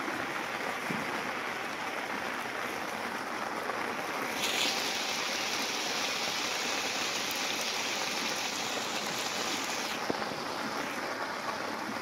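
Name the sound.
heavy rain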